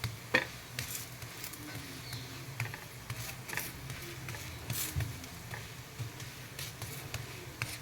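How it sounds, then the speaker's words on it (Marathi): A radish paratha roasts on a hot pan with a faint, steady low sizzle, broken by scattered soft taps and clicks, close and quiet with no talking. "आपला पराठा आता तयार झालेला आहे सगळीकडून चांगलं भाजून शेकून घ्यायचं आहे"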